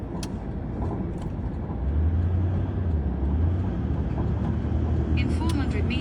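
A car driving through the streets of Kigali, a steady broad road rumble with a deeper engine hum building partway through, people talking inside over it.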